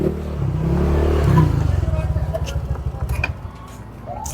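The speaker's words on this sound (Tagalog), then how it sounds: "Boss, tabi ko lang yung motor ko, boss" A motorcycle being moved aside at a street fiesta: a close engine idles and putters with a rapid ticking rhythm, with light clatter and background street noise.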